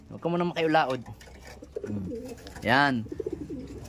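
Pigeons cooing close by in a few drawn-out, throaty calls, with quieter rustling and short sounds between them.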